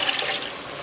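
Water pours into a bowl while making Sri Lankan spicy red fish curry, a steady, close splashing rush that fills the short moment.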